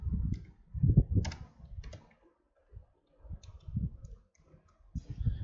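Code typed on a computer keyboard during a programming lesson on pointers, with bursts of close, soft clicking keystrokes separated by short pauses.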